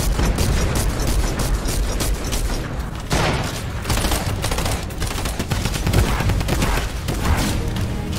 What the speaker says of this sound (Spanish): Dale con escopeta al pescado.